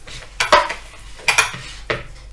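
Clinking of a utensil against a bowl in three short bursts, close and fairly loud, as flour, egg and baking soda are stirred briskly for cookie dough.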